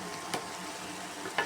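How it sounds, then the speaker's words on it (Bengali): Dried fish shutki frying with onions in a pan, a soft steady sizzle with a couple of faint stirring scrapes, quiet and close, no voices. "আমি রান্না করতেছি এই যে পেঁয়াজের ঠোসা দিয়া শুটকি দিয়া বিরান"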